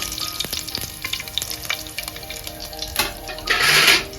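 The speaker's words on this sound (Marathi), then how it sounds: "ती फोंडां भाजता।" Onions frying in a pan with garlic nearby for a Goan mango curry, a close crackling sizzle with scraping stirs and a louder hiss near the end.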